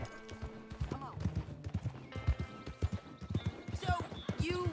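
Horse hooves clip-clop in the Red Dead Redemption 2 epilogue, a steady rhythm of close, moderately loud hoofbeats mixed with game sounds while a person talks over them.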